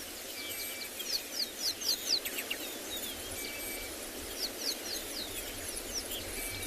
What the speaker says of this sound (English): That little contact call that sounds very much like a bird.